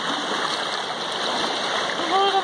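Water rushes steadily at Pagsanjan Falls near Manila in the Philippines, a continuous broad roar with a brief voice rising near the end.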